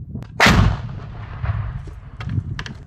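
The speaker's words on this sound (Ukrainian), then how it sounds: "Зараз буде проведення знищення на місці виявлення." A controlled detonation of explosive ordnance: a single sharp, loud blast booms out and rolls away into a fading rumble, followed by faint distant thuds.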